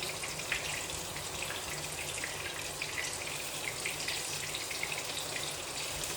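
Heavy rain pours steadily in a dense, even hiss with scattered drips and splashes, a constant close wash of water without pauses or voices.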